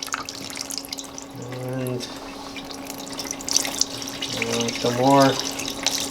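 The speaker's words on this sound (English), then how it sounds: "start draining the oil. Ooh, look at all that water." Water and oil draining from an Oldsmobile 350 V8 engine that sat unused in a garage for over a year, a close, steady trickling splash with someone talking over it.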